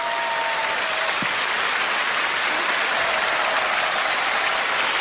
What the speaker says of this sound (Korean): 송명희 시인님을 여러분 뜨거운 박수로 맞아주세요